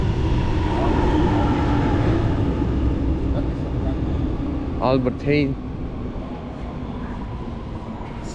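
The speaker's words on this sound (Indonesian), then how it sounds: "Kereta lewat." A train rolls past near a station by the Ajax stadium area, a steady rumble filling the clip while people talk over it and a short announcement-like voice cuts in midway.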